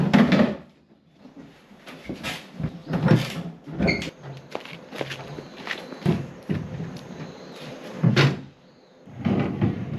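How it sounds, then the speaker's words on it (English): Wooden drawers handled inside an abandoned countryside house, giving a run of close knocks, scrapes and clunks at irregular intervals, with a few louder bumps and short pauses between them. "These are just the back of the drawers that go"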